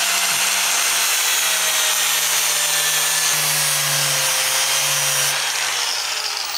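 An angle grinder fitted with a 3M Cubitron II 969F flap disc works metal in a loud, continuous whine, its motor pitch dipping slightly as pressure shifts, with no voices over it.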